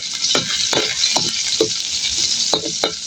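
Mung beans cooking with tomato and onion sizzle steadily in a hot pan, with crackling splatters and regular scraping stirs of a utensil against the pan, close and continuous, no voices.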